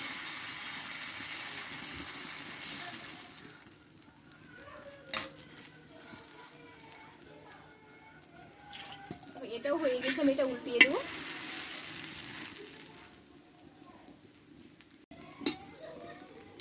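A small egg and flour tiffin fries in a little oil in a pan, with a soft, low sizzle throughout, a few louder bursts of crackling and scraping as it is turned and lifted out.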